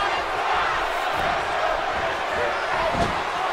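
A wrestling crowd in the Impact Zone of the TNA Impact video game roars steadily, a thick, continuous wall of cheering with a brief swell near the end.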